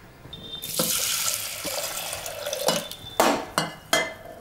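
Water runs into a pressure cooker over toor dal being rinsed, a steady splashing stream broken by a few sharp bursts of gushing water near the end.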